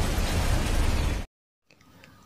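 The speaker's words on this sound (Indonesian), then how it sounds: "Cherry memasukkan bom ke mulut Mitsuki, dan akhirnya Mitsuki meledak, lalu mati" A bomb explodes in a gangster action film: a loud, dense blast fills the first second and a quarter, then cuts off abruptly into silence before faint background sound returns.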